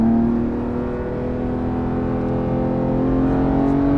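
A Porsche GT3 Touring pulling away, its engine a steady, loud drone with a slowly rising whine as it gets underway, heard from inside the car with no talking.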